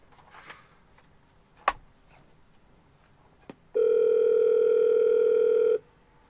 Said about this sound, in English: Can you please answer the phone?